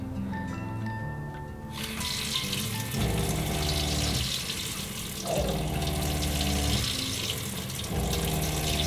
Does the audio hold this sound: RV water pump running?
yes